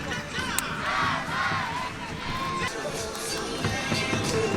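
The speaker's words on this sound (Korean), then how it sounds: "다시 한번 수고해준 선수들에게 경기의 박수를 부탁드립니다" A football stadium crowd at an FC Anyang match fills the air after the final whistle with a broad, steady roar of applause and scattered shouts, heard from a distance with voices nearby.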